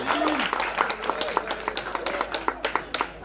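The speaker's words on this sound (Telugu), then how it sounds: "గట్టి చప్పట్లు ఇవ్వాలి." A crowd claps at a high school farewell ceremony, giving steady, rhythmic applause of quick, sharp hand claps in a hall, moderately loud and continuous through the whole stretch.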